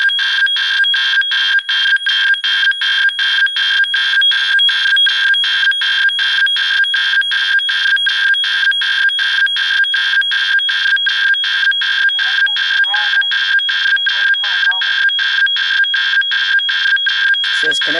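A SkyGenius 1080p WiFi pan-tilt security camera emits a shrill, rapidly pulsing high-pitched electronic tone during setup, continuous and loud for about eighteen seconds, with faint talk underneath near the end.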